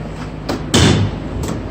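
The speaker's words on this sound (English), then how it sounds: "The door does swing out all the way." Rear door of a 2017 Ram ProMaster 2500 high-roof long-wheelbase cargo van swinging open, with a soft first knock, a single loud thump as it reaches its stop and a light rattle after.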